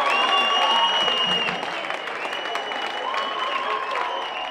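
Crowd noise at an Oberliga Westfalen football match between FC Gütersloh and Westfalia Herne after a goal puts Gütersloh 2:1 ahead, a sustained roar of cheering and applause with whistles and singing, heard at a distance.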